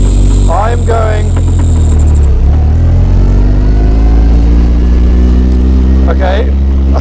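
A Caterham 620R's engine revs hard in first gear while driving, a loud, close, sustained buzzing drone that rises and falls in pitch, with a voice speaking over it.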